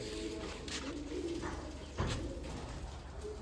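Faint pigeon coos rumble low and steady, with a brief louder thump partway through and quiet ambient noise throughout.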